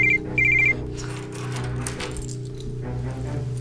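A telephone rings with an incoming call indoors, two short electronic bursts of ringing at the start over a steady low hum, then the room carries on without speech.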